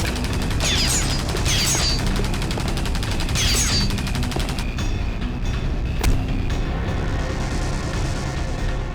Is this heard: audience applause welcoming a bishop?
no